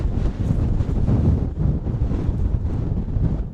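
Strong wind blasts across a mountain ridge at a wild camp in Wales, a loud continuous buffeting roar battering the microphone with no letup and no speech.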